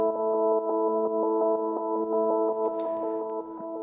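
Synthesizer tone built from Ableton stock plugins, with a complex, hand-drawn tremolo rhythm chopping a sustained chord into irregular pulses, playing alone and fairly loud.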